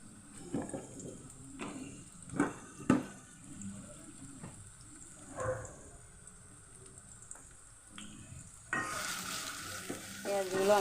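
Onions frying in a cooking pot, a soft sizzle with intermittent spoon scrapes and clanks, then a louder burst of hissing near the end; quiet and close, no talk.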